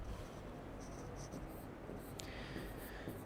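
Chalk or marker scratching across a classroom board in a geography lesson, a steady soft scraping with a few brighter strokes over low background hiss, close and fairly quiet, no voices.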